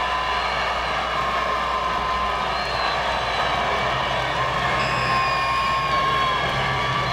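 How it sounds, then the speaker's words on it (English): A huge grandstand crowd at Indianapolis Motor Speedway cheers Jeff Gordon after the 2004 Brickyard 400, a steady, far-reaching roar that fills the air without letting up. "Listen to the crowd."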